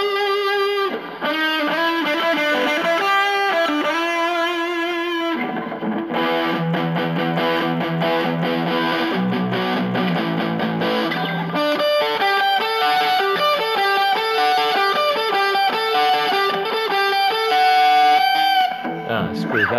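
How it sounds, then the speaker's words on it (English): Distorted music processed through a custom VST/AU distortion plugin, loud and continuous with gritty, saturated harmonic tones and shifting melodic notes, briefly dropping out and returning. "I hope you guys like this distortion."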